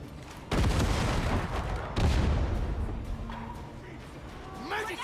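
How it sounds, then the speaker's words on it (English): Grenade explosions in the co-op shooter Darktide, two heavy booming blasts with crackling debris, loud and close, amid chaotic combat noise. "Throwing grenade!"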